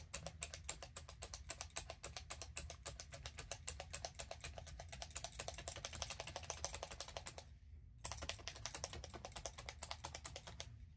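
A multi-needle felting tool with seven fine needles punches into wool in a rapid, steady tapping rhythm, close and quiet, pausing briefly before resuming.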